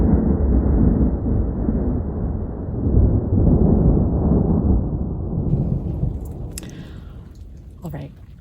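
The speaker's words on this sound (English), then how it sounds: "There's still some thunder and lightning, what seems to be quite a ways out." Distant thunder rolls as a long, low rumble over a rain-soaked campsite on an overland trail, fading out after several seconds, followed by quieter scattered sounds.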